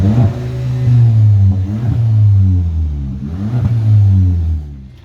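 Straight-pipe exhaust on a VW Golf GTI Clubsport revs loudly and close, the engine note sweeping up and down in repeated rises over about five seconds with no talking.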